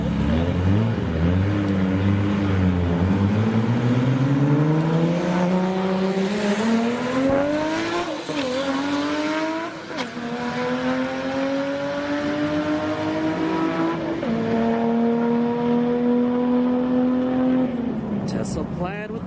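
A Tesla Plaid and a Toyota Supra drag racing at Orlando Speedworld, engine and motor noise rising and shifting in pitch through gear changes, loud with a crowd-like wash and a commentator talking over it.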